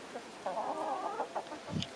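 Chickens clucking nearby on a Scottish island in a short burst of soft, throaty calls, with one higher squawk near the end.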